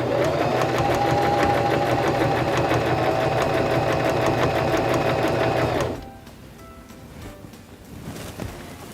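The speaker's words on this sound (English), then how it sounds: "Now we can press down on our foot control and sew." A SINGER START 1304 sewing machine stitching fabric, running loud and close with a steady fast mechanical whir and needle rhythm for about six seconds, then stopping abruptly, leaving faint handling noises.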